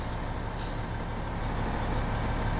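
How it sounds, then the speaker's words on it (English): A truck's air handbrake is set in American Truck Simulator: a short burst of air hiss rises over the steady low rumble of the idling engine. "Put the handbrake on."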